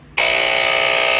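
A Royal Typewriter TS-1000G smoke and gas alarm sounds its buzzer. The loud, shrill tone cuts in abruptly after a brief quiet and holds steady and close for about a second.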